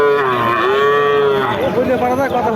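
Pakistani-breed calves at a calf market bellow in loud, sustained, drawn-out moos, one call running into the next, close by over a busy crowd background.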